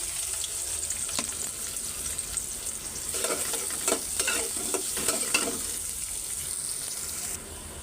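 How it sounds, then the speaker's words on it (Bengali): Sliced onions and bay leaves frying in hot oil, a low steady crackle with scraping stirs and a few louder sizzling bursts in the middle, fairly close and with no voices. "এই যে পেঁয়াজ আর এখানে তেজপাতা নিছি, এগুলি একটু লাল লাল করে নিই"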